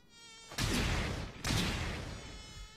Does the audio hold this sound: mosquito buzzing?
yes